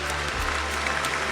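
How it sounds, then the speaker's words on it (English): Studio audience applause, a steady, even wash of many hands clapping heard close and continuous throughout, welcoming a show host named Fermat, with no talking over it. "Give a warm round of applause for Fermat."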